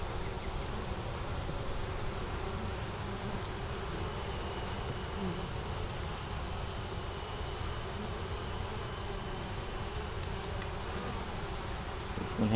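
Dense, steady drone of many honey bees buzzing around an opened hive that had swarmed, a continuous close hum with no voices.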